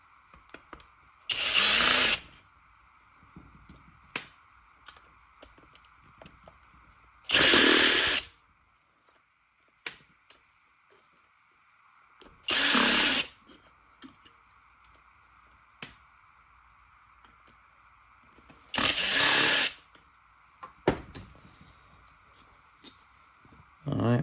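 Four separate bursts of a power driver or drill, each lasting about a second, remove the screws from a Honda Rancher 350 ATV carburetor float bowl. They fall at a steady interval over a quiet, faintly humming background.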